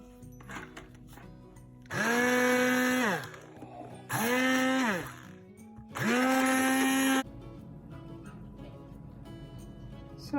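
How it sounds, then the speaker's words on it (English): Blender pureeing cooked broccoli and rice into baby food, running in three loud whirring bursts of about a second or two each, with the motor pitch ramping up and settling, separated by short pauses. "Using this blender, I'm going to smash it."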